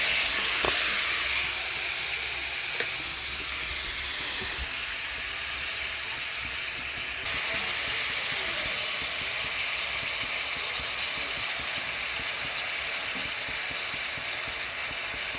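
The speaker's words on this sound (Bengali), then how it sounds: "হলুদ, লঙ্কা, জিরে, মশলা সবার সঙ্গে সবাই দিয়েছে, কষানো হয়ে গেছে। এখন দিয়ে নিচ্ছি পরিমাণ মতো জল।" Water poured into a hot pan of spiced mixed vegetables with turmeric, chilli and cumin, a loud, steady hiss of steam and sizzling that starts sharply and keeps going, easing only slightly, with a few small clicks.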